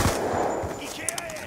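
An MP7 submachine gun without a foregrip fires in a video game, a short burst of rapid shots at the start followed by a couple of sharper metallic reports and a fading ring.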